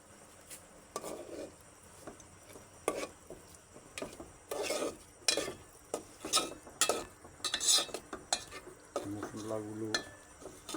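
Spices frying for chicken jhal fry, stirred in a pan with repeated scraping and clattering strokes of a utensil against the metal, close and moderately loud, in bursts with short pauses between.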